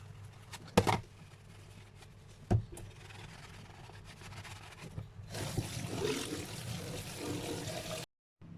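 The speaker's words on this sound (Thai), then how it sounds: "เราก็จะไปล้างทำความสะอาดโหลกันค่ะ" Water runs and splashes while a glass jar is washed clean, with a couple of sharp knocks early on and then a fuller, steady gush that stops abruptly.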